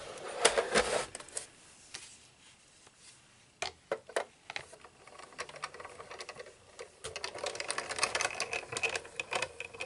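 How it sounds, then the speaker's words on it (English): A die cutting machine feeds paper layers through its rollers, producing faint irregular clicking and ratcheting bursts, quiet stretches between them and a busier rattling run toward the end. "I'm going to run this through and cut this in my machine"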